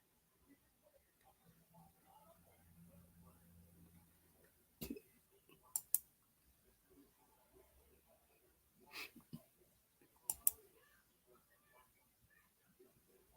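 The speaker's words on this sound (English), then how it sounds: "y'all are going to hear some clicking" A computer mouse clicks faintly in a quiet room, with a handful of sharp, isolated clicks, some in quick pairs, spaced several seconds apart over a low background hiss.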